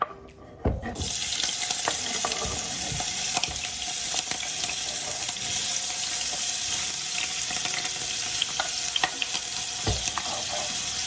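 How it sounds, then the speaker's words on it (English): Seasoning fries in a pan with a continuous, bright sizzle after a brief quiet start, joined by occasional faint clinks and stirring sounds. "I am going to fry my seasoning"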